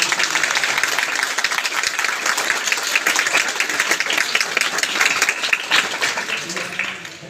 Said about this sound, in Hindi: तो एक बार जोरदार तालियां बजाएं